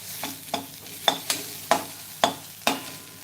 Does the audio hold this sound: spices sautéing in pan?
yes